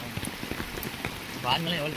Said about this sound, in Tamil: அடித்து நொறுக்கும் ஆத்து வெள்ளம்